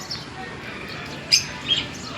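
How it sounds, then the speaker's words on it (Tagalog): Faint bird chirps sound briefly twice over a quiet background hiss, small and somewhat distant, just after rain has stopped. "Kaya maingay na naman yung mga ibon."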